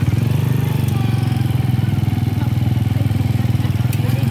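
A motorcycle engine drones steadily and close by, a loud continuous rumble with some rattling clatter on top.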